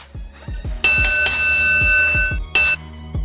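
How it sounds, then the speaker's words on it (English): Boxing round bell sound effect played back for a GSP vs Johny Hendricks fight rescoring: a series of close, loud metallic dings with ringing overtones, repeating rapidly and then layered into a sustained clang before another burst near the end. "I think I found the bell sound"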